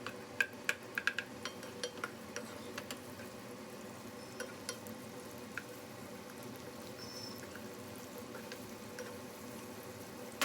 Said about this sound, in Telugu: ఆయిల్ హీట్ అయిన తర్వాత ముందుగా ఈ ఆనియన్స్ పచ్చిమిర్చిని ఇలా వేసేసుకుని